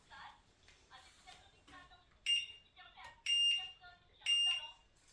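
A UMAY SF10 Pro home treadmill powering on gives three short, loud electronic beeps spaced about a second apart, while a person talks over quieter stretches in between.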